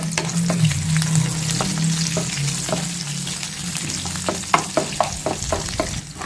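Garlic and chillies fry in hot oil in a pan for pumpkin sambar, giving a steady close sizzle with a low bubbling hum and scattered sharp crackles and stirring clicks, no one speaking.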